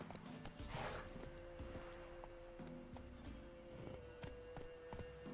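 Roach the horse's hooves clopping in The Witcher 3, a steady quiet clip-clop at a walking pace over a low ambient drone, with no talk.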